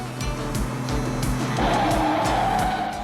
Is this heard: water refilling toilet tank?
no